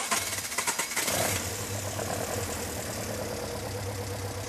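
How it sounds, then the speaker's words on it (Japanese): An engine fitted with Weber carburetors cranks briefly, then catches and settles into a steady, close, fairly loud idle with a low rumbling tone. "じゃあエンジンをかけてみましょう。"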